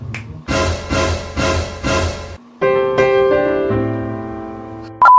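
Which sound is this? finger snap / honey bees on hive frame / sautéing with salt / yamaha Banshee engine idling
finger snap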